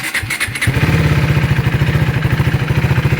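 A 2023 KTM RC390 motorcycle with an aftermarket Coober exhaust header cranks briefly, catches and settles into a steady, loud, rhythmic idle with evenly spaced low thumps.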